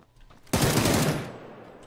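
Burst of rapid automatic gunfire from a new gun in a video game, a loud sudden volley starting abruptly and fading after about a second.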